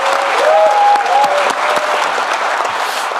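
An audience at a Jeonbuk town hall meeting claps in a loud, dense burst of applause that holds steady for a few seconds and then eases slightly, with a faint voice briefly heard over it.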